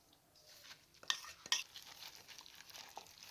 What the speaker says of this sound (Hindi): और अच्छे तरीके से चिकन को इस तरह मिक्स करें इस मसाले के अंदर